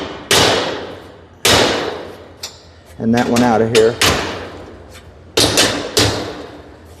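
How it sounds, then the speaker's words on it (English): Sharp metallic hammer strikes ring out on a garage door part, several loud separated taps with decaying rings, while someone speaks briefly in between during the door installation. "That's why I got this hammer up here."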